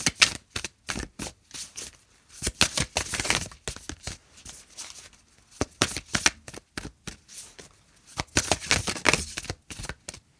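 Oracle cards being shuffled in short crisp bursts of riffling and slapping, close and fairly quiet, with brief pauses between bursts and no talking.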